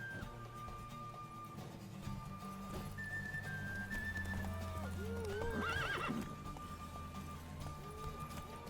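Horse hooves clip-clopping at a gallop in The Witcher 3, with neighs and whinnies mixed in. A game music drone sits underneath at moderate loudness.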